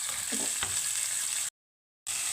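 Corn and tomato go into a sautéing pan of idli upma, raising a steady, close sizzle with a few soft thuds and scrapes. The sound cuts out briefly to silence, then the same frying hiss resumes.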